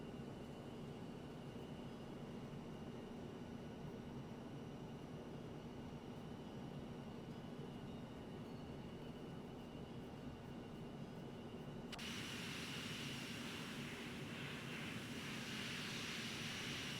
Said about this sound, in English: I love the in-cockpit sounds that they made for this plane